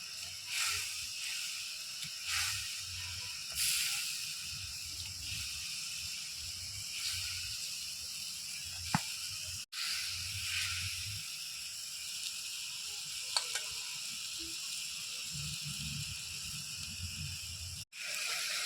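Koi and shol fish simmer in a pan of water for a green-chili oil curry, giving a steady, faint bubbling hiss that runs throughout with occasional soft pops and clicks.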